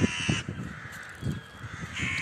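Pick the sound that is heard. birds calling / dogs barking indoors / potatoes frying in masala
birds calling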